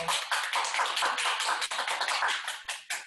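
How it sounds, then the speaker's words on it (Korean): A Korean church congregation gives sustained applause during a Sunday worship service, a dense steady patter of many hands clapping together for about three seconds, with no talking. "우리 하나님께 영광의 박수 드리겠습니다"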